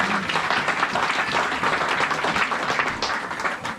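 A church congregation bursts into dense, sustained applause, many hands clapping together at close range for several seconds before easing slightly.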